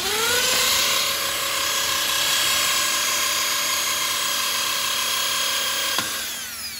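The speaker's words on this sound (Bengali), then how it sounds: "পাইপে ফুটো করা হচ্ছে যেখান দিয়ে ঝর্নার জলটা বেরোবে" A power drill bores holes in a pipe for a fountain cooling system in a lovebird colony. The motor whines loud and steady, close by, then winds down near the end.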